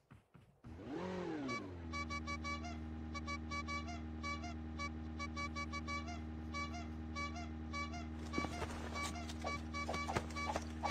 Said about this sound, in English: let's check out these vehicle sounds